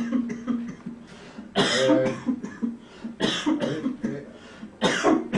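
Several coughs, harsh and close, spaced irregularly across a few seconds with a noisy room in the background.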